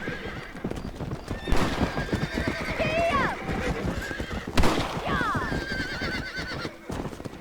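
Horses in the Red Dead Redemption video game whinny and neigh loudly twice over steady clip-clopping hooves, with game ambience throughout.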